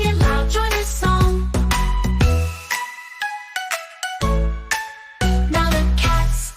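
Bright bell-like chimes ring out in a sequence of sharp, tuneful strikes with short gaps between them, leaving a ringing decay after each phrase.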